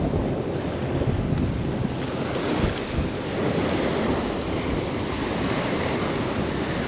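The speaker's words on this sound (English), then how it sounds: "The waves are punishing me." Ocean waves break and wash steadily onto a Maldives island beach, loud and close, with heavy wind buffeting the microphone throughout.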